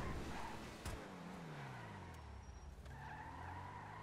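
A vehicle skids in a video game manhunt match, tires squealing in long falling sweeps over a steady engine drone, with a sharp crack near the start and a couple of clicks later, fairly quiet overall.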